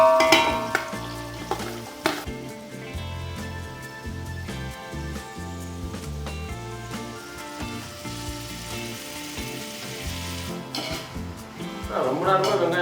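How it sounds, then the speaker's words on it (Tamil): Onions sauté in a pan for biryani with a continuous sizzle and occasional scraping and clinking of a utensil against the pan, heard under background music throughout. "ரொம்ப நேரமாக வெங்காயம் வதக்கிற மாதிரி இருக்கு"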